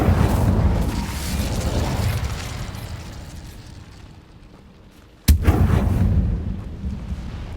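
A Bombarda blast spell goes off with a sharp, loud explosion in Hogwarts Legacy, set against an already busy rumble of game effects and booms that fade before the single sudden burst.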